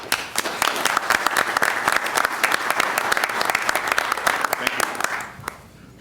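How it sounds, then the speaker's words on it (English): Sustained applause from a village board meeting audience honoring a holiday group, dense steady clapping throughout that fades out near the end. "Let's give them a round of applause."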